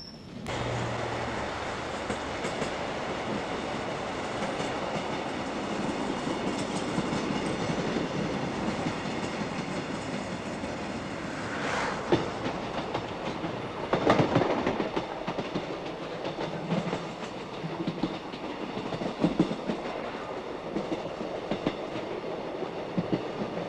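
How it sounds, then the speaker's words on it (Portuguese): A train passes close by, its steady loud rumble and clickety-clack of wheels on rails filling the whole stretch, with brief screeches and clanks partway through and no talking. "Detesto aquele comboio."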